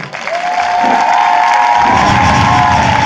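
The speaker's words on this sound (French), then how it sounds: "on les applaudit bien fort, s'il vous plaît" Crowd at a hip hop dance battle breaks into loud, sustained applause and cheering, swelling quickly and holding full and close, with a high shout or whistle riding over the clapping.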